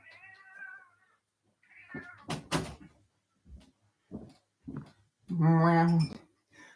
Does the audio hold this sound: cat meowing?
yes